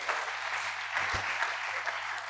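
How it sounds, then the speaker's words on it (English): Applause from an alumni lecture audience, a steady broadband patter of many hands clapping throughout, fairly distant and even, with a low electrical hum underneath. "Let's give him a round of applause"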